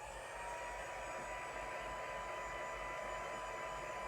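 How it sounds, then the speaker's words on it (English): Craft heat tool running on low heat to dry work, a steady, faint, continuous blowing hiss with no pauses and no talk. "So I'm going to use my heat tool on low heat to set that,"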